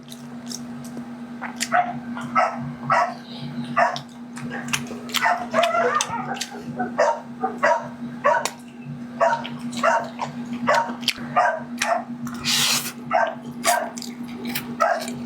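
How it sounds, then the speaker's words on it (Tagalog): Male dogs bark repeatedly in short, sharp bursts, several animals yapping and whimpering at moderate distance over a steady background hum, with no talk. "kaya maingay yung mga lalaking aso"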